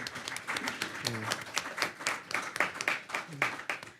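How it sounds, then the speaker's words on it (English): Scattered clapping from the audience at a SBCCD public board meeting, uneven and moderate, mixed with people talking over it. "I think you all should clap for yourselves"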